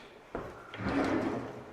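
A solid wood kitchen drawer without soft-close slides shut, a sharp knock followed by a rolling slide and dull wooden thud, close and clear in a quiet room.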